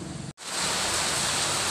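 Heavy rain pours down during Typhoon Paeng as a steady, loud, dense hiss, broken by a brief dropout near the start, then continuing unbroken with no voices.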